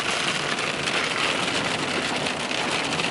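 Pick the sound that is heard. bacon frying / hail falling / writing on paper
hail falling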